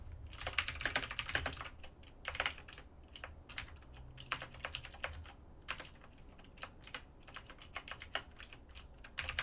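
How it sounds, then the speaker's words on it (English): Steady bursts of computer keyboard typing, clacking keystrokes in irregular clusters, close and fairly quiet, with no voices over it. "God, typing's hard."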